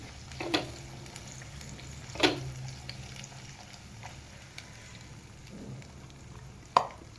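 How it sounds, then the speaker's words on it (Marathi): Ground masala paste fries in a ladle of oil for kaju masala, giving a faint steady sizzle with a few soft scraping stirs, no talking. "हे बारीक केलेलं वाटण आपण त्याच्यात घालून घेऊया. मी एक पळी तेल टाकलेलं आहे त्याच्यामध्ये."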